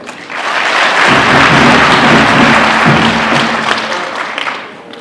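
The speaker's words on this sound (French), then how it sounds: "nous on a applaudi" Loud, dense applause from a large audience at a national Sovereignty Day event, a sustained roar of clapping for about five seconds that swells and then thins slightly near the end.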